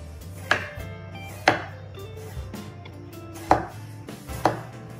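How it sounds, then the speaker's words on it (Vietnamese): A knife dices tomato on a cutting board, giving four distinct, well-spaced chops with soft scraping between them, close by and without talk. "Cà chua cũng thái hạt lựu."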